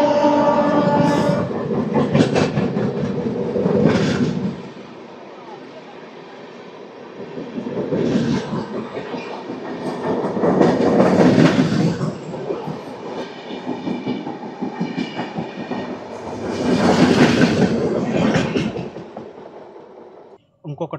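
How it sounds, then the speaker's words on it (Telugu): Konark Express, train number 11020 from Bhubaneswar to Mumbai CSMT, passing through Gullipadu station: a loud rolling rumble with surging clatter of wagons that swells and fades in waves over about twenty seconds, with voices faintly heard beneath. "మనల్ని కోనార్క్ ఎక్స్ప్రెస్ అయితే ఫసక్ చేయబోతుంది గుల్లిపాడు అనే స్టేషన్లో"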